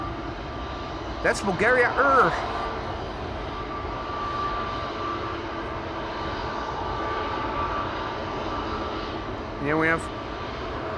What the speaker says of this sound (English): is that another A220 coming this way?